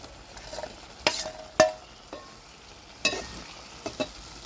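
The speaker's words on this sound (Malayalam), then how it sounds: "അതിലേക്ക് ഞാൻ ഫ്രൈ ചെയ്ത് വെച്ച കൊഞ്ചും കൂടി ചേർത്ത് കൊടുക്കലാണ്" Fried prawns, crisped in cornflour, are stirred into a ready masala for a quick prawn biryani, giving a few sharp spoon-and-pan clatters over a faint background sizzle.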